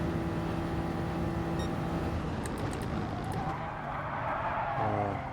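A race car in the video game GT Sport brakes hard and its tires skid and squeal over a continuous engine drone, the screech rising toward the end with no talking.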